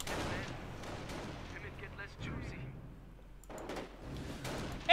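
An MG42 machine gun firing in the Company of Heroes real-time strategy game, with bursts of gunfire among other battle sounds and game effects, spread across the moment with a voice narrating over it.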